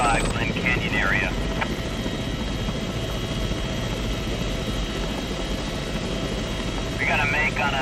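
A helicopter flies steadily in the Glen Canyon area near Salt Lake City, its rotor and engine drone holding at a constant level throughout, with a voice talking briefly at the start and again near the end.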